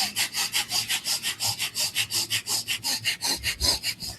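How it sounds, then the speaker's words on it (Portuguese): Rapid, forceful breathing through the nostrils during an accelerated breathing exercise, with steady rhythmic in-and-out rushes of air, roughly five per second, close and fairly loud with no talking. "respirando rápido e forte pelas narinas"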